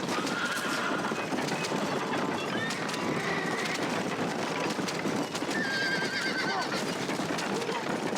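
Hooves clip-clop rapidly in a steady gallop while a horse whinnies a few times over a busy, noisy background, from the video game Red Dead Redemption.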